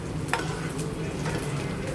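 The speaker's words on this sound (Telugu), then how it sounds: "ఈలోపు తాలింపు అవుతుంది కదా" A steady frying sizzle of spice tempering fills the scene, with occasional stirring clinks over a constant crackling hiss from the pan.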